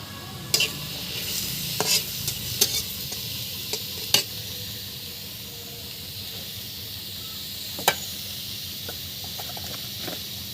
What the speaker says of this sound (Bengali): বোয়াল মাছ রান্নার জন্য প্রথমে পেঁয়াজ মরিচ তেলে কড়াই দিয়ে দিয়েছি